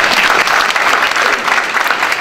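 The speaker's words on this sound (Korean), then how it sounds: "여러분도 동의하시면 박수 한번 쳐주시죠" Audience at a National Assembly seminar on design support policy clapping together, a dense, steady burst of applause filling the room for a couple of seconds, loud and close, with no speech over it.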